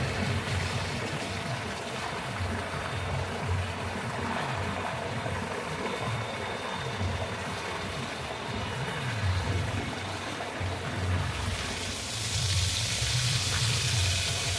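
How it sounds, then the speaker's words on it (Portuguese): A heavy stream of water pours continuously onto a person's back at a small rural pool, a steady close splashing rush with no talk over it. "Essa pancada de água na costa, né, nas suas costas"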